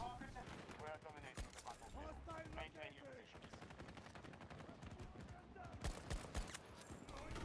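Rapid bursts of automatic rifle fire from a G428 in a video game, loud and sustained over several seconds with a few brief pauses, heavier shots near the end, with a voice speaking over the gunfire.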